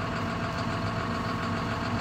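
A 2009 John Deere 7530 Premium tractor with an AutoQuad gearbox runs with a steady, loud diesel drone and a faint rhythmic knock, heard up close and unbroken throughout.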